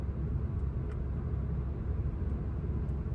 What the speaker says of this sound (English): So this car is passing by